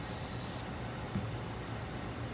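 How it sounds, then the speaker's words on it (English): A steady hiss of cleaner sprayed onto the spring of a piece of EDC gear, close and continuous, with a sharper high layer dropping away after the first moment. "I go ahead and spray the spring here as well."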